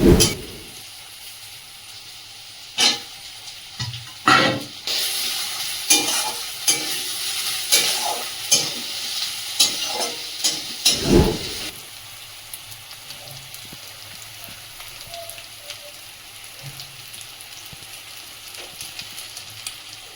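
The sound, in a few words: onions frying with salt in a pan for mutton curry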